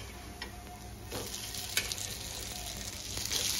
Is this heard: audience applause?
no